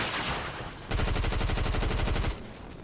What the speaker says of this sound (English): Reload again and shoot him.